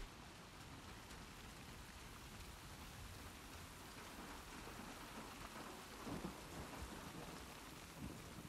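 Steady heavy rain pours down during a video-game thunderstorm in The Last of Us Part II, with low rolls of thunder swelling near the end.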